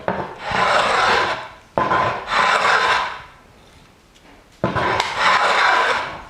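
A Japanese hand plane pulled along a wooden board makes three long, close scraping strokes, separated by brief pauses and followed by a quieter lull before the last stroke.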